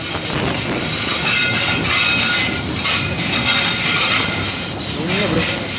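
A coal freight train of flat wagons rolls past at an Indonesian railway station, with a loud continuous rumble, clattering wheels and a brief wheel squeal near the end.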